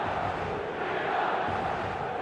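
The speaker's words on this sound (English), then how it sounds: "The fans have pulled out all the stops to make this a monumental occasion" Stadium crowd in the video game eFootball 2026, a steady, dense roar of many voices cheering and chanting without pause.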